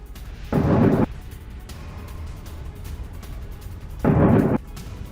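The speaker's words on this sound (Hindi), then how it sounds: "ईरान की मिसाइल गिरने के बाद धमाके हुए हैं।" Explosions after Iranian missile strikes in Bahrain: two heavy, booming blasts roughly three and a half seconds apart, each lasting about half a second and standing out above a dull, rumbling background.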